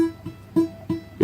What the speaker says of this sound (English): a bit buzzy, put a bit more pressure on.